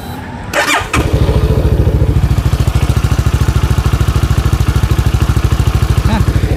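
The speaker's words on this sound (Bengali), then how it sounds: "এই আইডলের সাউন্ডটা আমি একটু শুনে আপনাদেরকে" A motorcycle engine starts and settles into a loud, steady idle with a rapid, even thumping pulse, heard close up and alone after the brief start.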